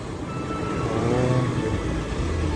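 A motorbike engine revs and drones close by, rising then holding steady as it passes at Krakal Beach in Gunungkidul, with no talking over it.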